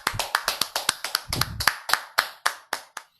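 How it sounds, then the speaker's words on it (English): Short burst of audience applause for a winning student, about a dozen sharp, separate claps in a quick irregular rhythm, fairly close, slowing and thinning out toward the end with no voices. "Give a big round of applause for Nagadurga."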